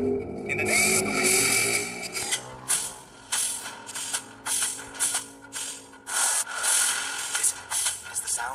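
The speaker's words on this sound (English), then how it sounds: "This is the sound of the wind." Wind skill effect of the mage hero Vale in Mobile Legends, a broad rushing whoosh with repeated gusty bursts and swells over game audio, loud and continuous throughout.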